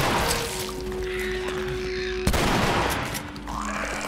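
A shotgun blast rings out in the video game The Last of Us, one sharp loud report near the middle over a steady droning game soundscape, with no talk.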